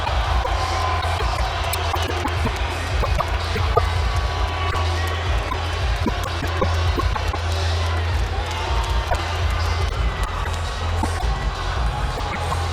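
At a boxing arena for Amir Khan versus Lamont Peterson, a large crowd roars and cheers steadily in support, a dense continuous wall of noise with a commentator talking over it.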